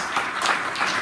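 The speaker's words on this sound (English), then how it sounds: "A round of applause for yourself." Brief clapping from a conference audience, a short soft burst of scattered applause at fairly low level with no talk.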